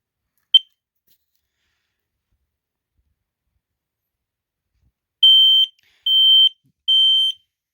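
A smoke and carbon monoxide detector test: one short chirp, then after a pause three loud, piercing electronic beeps in an even rhythm, each lasting under half a second, with silence between.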